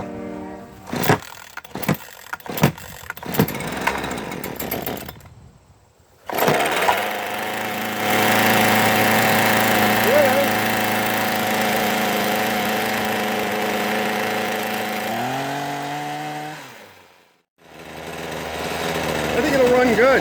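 A Poulan Pro two-stroke hedge trimmer, on choke with an unadjusted carburetor, sputters through a few rough pulls and brief catches, then fires and runs loud and buzzy before dipping to a warbling idle, cutting out and restarting.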